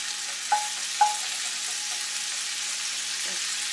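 Steady, soft sizzle of sausage frying in a pan, with two small clinks early on and a faint tap near the end.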